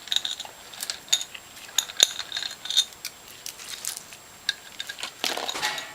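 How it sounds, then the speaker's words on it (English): Metal screws being removed from the top of a Norwalk juicer, with scattered light metallic clicks, tool taps and small clinks of parts set down, close and fairly crisp, with no talking. "take out all the screws in the top and set them aside"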